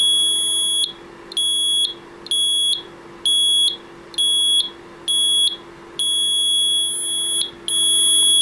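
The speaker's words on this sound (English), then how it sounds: "as I insert the probes, in my case two wires, inside the water, the buzzer will produce a sound." An active buzzer in a simple water level indicator circuit sounds as wire probes sit in water, a loud, piercing electronic tone pulsing on and off in regular bursts about once a second, close and alone over a faint steady hum.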